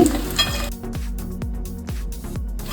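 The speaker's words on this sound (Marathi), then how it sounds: "दोन्ही बाजूने शेव आपली तळून होती. मी आता उलटून घेतली." Spicy chilli sev deep-frying in hot oil, a steady sizzle broken by a run of regular clanks and scrapes from a utensil as the strands are turned over, close and fairly loud.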